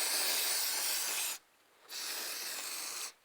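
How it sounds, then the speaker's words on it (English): Spray can releases oil onto rally car parts for a Nissan Micra rally project: two close, steady hissing bursts with a brief pause between them. "We're spraying some free oil on them"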